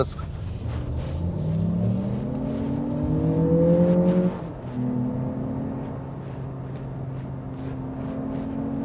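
2023 Lexus RX turbo hybrid SUV accelerating hard, engine note rising steadily in pitch, then dropping at a gear change before climbing again, heard from inside the cabin.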